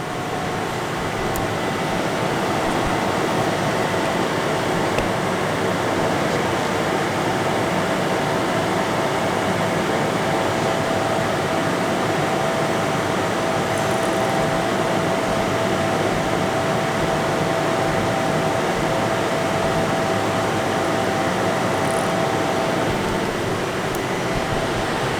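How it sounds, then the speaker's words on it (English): A Swiss-type lathe threads a part dry with no coolant, giving a steady, even machine hum with a faint whine, constant and fairly loud throughout with no talking. "So that was the threading operation with no coolant."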